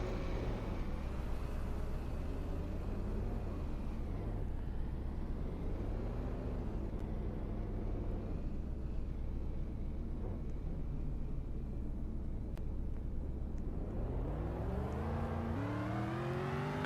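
Engine of a non-Hellcat car in the Roblox game Greenville, starting and then droning and revving with rising and falling pitch, steady and fairly close with no talk.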